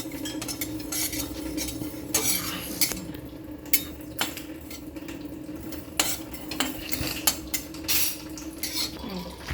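Shahi jeera dry-roasted in a pan, heard as repeated close metallic scrapes and clinks of a spoon stirring against the pan in an irregular rhythm over a low steady hum.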